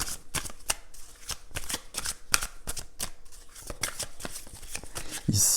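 Tarot cards shuffled in a steady series of crisp riffling bursts, close and fairly quiet, with a brief louder rustle at the end.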